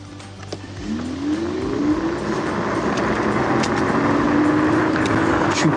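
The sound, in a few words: Angwatt T1 electric scooter riding at 25 km/h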